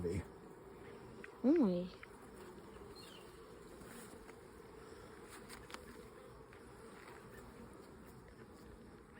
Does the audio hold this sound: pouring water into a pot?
no